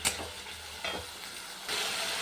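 Spices frying in oil for a katla fish curry, a soft sizzle broken by a few short stirring scrapes, with the hiss swelling toward the end.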